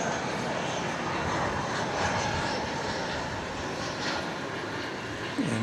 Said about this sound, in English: UPS Flight 751. It's going to Louisville, the World Port, and that is a 767.